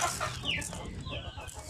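Farm chickens cluck close by in a quiet yard, with several soft, irregular clucks and a brief higher call over a low background hum.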